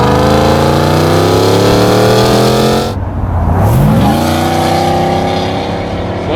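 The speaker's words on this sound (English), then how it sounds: "Or you can unlock the beast with our Stainless Works headers and catback." A Ford F-150 V8 fitted with stainless headers and a catback exhaust roars loudly up through the revs, drops off abruptly after a few seconds, then climbs again into a strong, rising drone.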